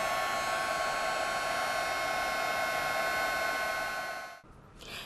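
A craft heat tool blows a constant, close whooshing hum as it melts metallic embossing powder on a card frame's edges, then cuts off abruptly near the end, leaving a brief quieter rustle.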